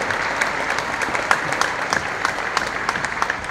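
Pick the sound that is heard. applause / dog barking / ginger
applause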